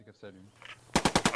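Machine gun fire in the WWII shooter game Post Scriptum: after a short stretch of talking, a close, loud burst of about six rapid, evenly spaced shots rings out.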